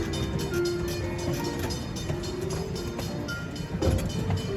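A small park train rolls through Irvine Regional Park in Irvine, California, with a steady close rumble and faint rhythmic clatter sustained throughout and no talk.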